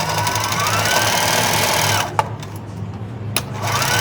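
A sewing machine stitches fabric with a steady, close mechanical whir for about two seconds, stops with a couple of clicks, then briefly starts running again near the end.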